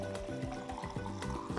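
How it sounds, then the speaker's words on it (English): Water poured from a pitcher into a film developing tank, a close, continuous gurgling splash with bubbling pulses over a short stretch. "I've got some water that's been in this pitcher here, and I'm just gonna pour that in"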